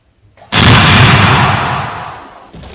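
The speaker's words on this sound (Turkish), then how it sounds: "Volkan daha patladı." A sudden deep roar like an eruption or explosion bursts in loudly, holds as a dense rumbling blast, then fades over about two seconds.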